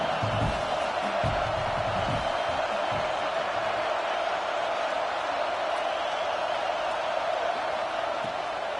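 A stadium crowd roars throughout at a college football game between Georgia and Michigan, a dense, sustained wash of cheering, with a commentator's voice briefly audible near the start.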